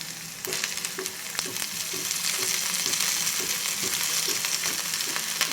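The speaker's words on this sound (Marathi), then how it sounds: "बटाटा देखील छानपैकी आपण ह्या तुपावरती परतून घेऊया" Diced potato fries and sizzles in hot ghee in a pan, a close, continuous crackle broken by regular scraping strokes of a stirring spoon.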